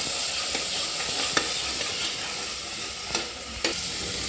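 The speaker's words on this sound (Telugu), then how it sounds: "పచ్చి వాసన పోయే వరకు ఫ్రై చేయాలి ఒక టూ మినిట్స్ హై ఫ్లేమ్లోనే" Masala for a drumstick curry frying on a high flame, a loud continuous sizzle with a few brief scraping stirs against the pan, no voices.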